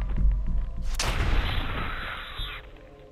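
A single loud gunshot from the Fallout 4 video game, a sharp close blast that rings out into a lingering tail over low background rumble.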